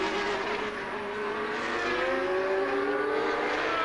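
1979 Dutch Grand Prix Formula 1 cars, a Ford Cosworth V8, a flat-12 Ferrari and a 1.5-litre turbocharged V6 Renault, screaming engines rising in pitch as they pass, loud and continuous under crowd noise.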